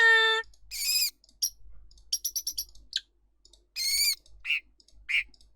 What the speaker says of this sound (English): As you can hear, there's all kinds of birds available.